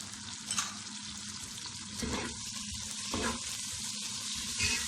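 Tomatoes with salt and turmeric sizzle steadily in a pan for lentil dal, a broadband frying hiss with a few louder bursts of stirring and scraping, no talking.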